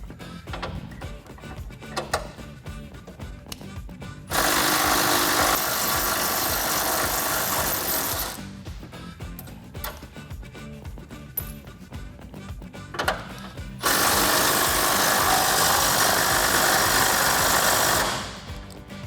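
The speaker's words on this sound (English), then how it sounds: "I'm gonna take my 18 millimeter socket on a 3/8 impact gun and get these bolts off." A 3/8-inch impact gun with an 18 mm socket removing headlight mounting bolts on a 2011-2016 Ford Super Duty, two long loud buzzing hammering bursts close by, separated by quieter handling noise.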